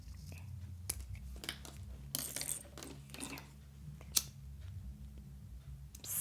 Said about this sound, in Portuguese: Deixo bem juntinho e vou cortar aqui rente,